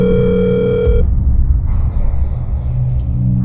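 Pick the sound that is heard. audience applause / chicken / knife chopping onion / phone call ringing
phone call ringing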